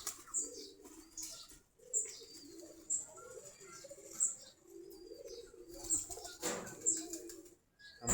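Pigeons in a backyard coop coo softly in repeated low murmurs after feeding, with occasional wing flaps and faint chirps in the background, the whole scene quiet and close.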